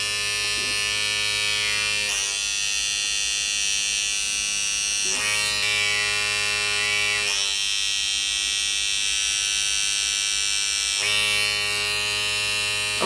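A small electric blackhead pore vacuum whining steadily with a high buzzing drone, its pitch shifting briefly every few seconds as it runs continuously on skin.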